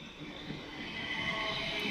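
Class 455 electric train running past Earlsfield station on the South Western main line, a steady broadband rumble and hiss that slowly builds in loudness, heard close with no talking.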